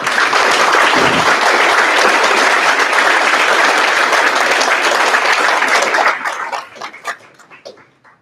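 Applause for a graduate fills the hall at a learning center graduation ceremony, loud sustained clapping from a large crowd for about six seconds before thinning to scattered claps and fading out.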